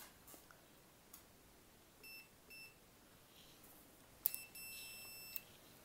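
A multimeter set to continuity mode gives several faint, short electronic beeps against a quiet background, near the bench during work on a power bank setup for a DSLR.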